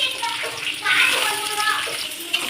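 Onions hit hot oil in a pan with a steady, hissing sizzle that fills the whole moment, fairly close and continuous with no other sounds standing out.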